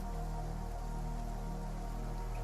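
Steady, dense rain falling, a constant hiss with a low rumble underneath that holds evenly throughout, with no voices.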